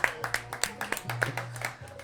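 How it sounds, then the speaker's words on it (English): Scattered clapping from a small audience at an event about the pipe and cigar industry in New Orleans, a few hands tapping unevenly over a low background hum, fairly faint and brief. "Give yourselves a round of applause."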